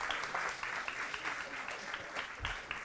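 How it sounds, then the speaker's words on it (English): Audience applause at a school board meeting honoring a San Gorgonio High School student and her family, a steady close wash of many hands clapping with a few louder bursts, no talk over it. "Let's give her and her family a big round of applause."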